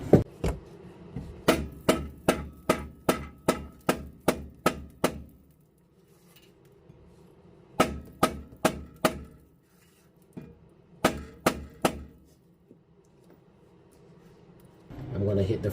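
Hammer blows ring out against a stuck rear brake rotor on a 2012 Toyota Camry, loud metallic strikes coming in rapid bursts of six to ten hits separated by short pauses.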